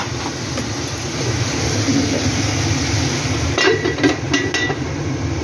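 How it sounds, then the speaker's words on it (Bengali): A lid is set onto a cooking pot of pumpkin and bitter gourd on the stove, a few quick metallic clanks and clinks near the end over steady background hiss and hum. "ঢাকার জিনিসটা বার করলাম, এবার আমি ঢেকে দেব।"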